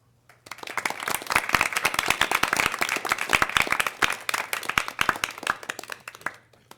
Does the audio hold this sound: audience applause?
yes